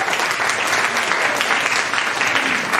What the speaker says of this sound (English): let's give a round of applause for the soup and salad.